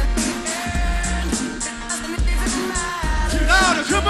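A festival crowd at a concert sings along over the live band, with a dense wash of voices and a steady thumping beat at loud, roomy volume.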